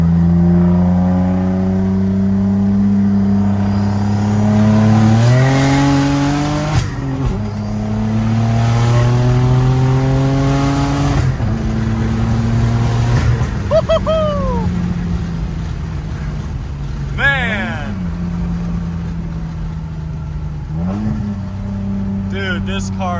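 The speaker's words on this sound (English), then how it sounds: "He can do rolling anti-lag with this tune." A tuned turbocharged Saab car accelerates hard through several gears from inside the cabin, its engine note rising and falling with each shift, sharp anti-lag pops and cracks between shifts, and voices heard over it.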